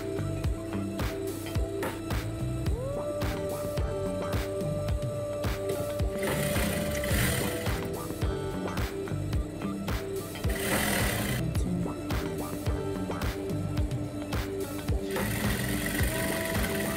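A sewing machine stitches a pant seam starting from the hem, running steadily and close with a fast mechanical whirring and clatter. It pauses briefly and restarts a couple of times, with no voices.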